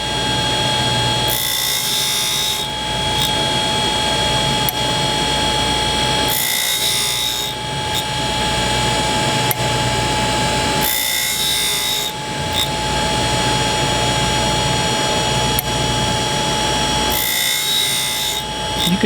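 Carbide inserts and a slitting saw being sharpened on a cutter grinder: a steady motor whine with a constant tone, broken by repeated harsh rasping grind passes every few seconds, close and loud, with no speech.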